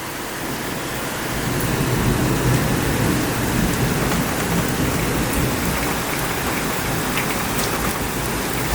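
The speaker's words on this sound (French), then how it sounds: "Oh là là, l'orage de malade." Heavy thunderstorm over Bordeaux, with dense, loud rain pouring steadily and a low rumble of thunder rising underneath, continuous and close with no voices.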